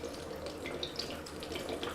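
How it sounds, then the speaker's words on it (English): Coconut water pours into a blender in a steady splashing, gurgling stream, close by and continuous, with no speech over it. "Next, I'm going to go ahead and add in the coconut water."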